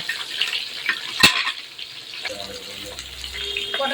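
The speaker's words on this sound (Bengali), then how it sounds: "পটলগুলো ভেজে তুলে নেব সুন্দর করে" Pointed gourd fries in hot mustard oil in a kadai, a continuous hissing sizzle with a sharp clatter near the start, then softer bubbling alongside faint background hum.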